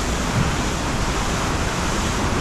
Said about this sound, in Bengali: জলটা কিন্তু ফোর্সে এইখান থেকে বেরোচ্ছে।